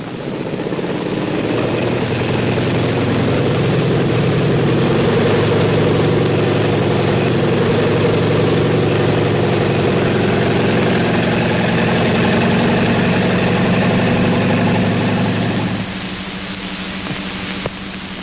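Heavy WW2 tank engines drone steadily at a constant low roar for a long stretch while crossing a ford, then the noise drops to a quieter idle near the end.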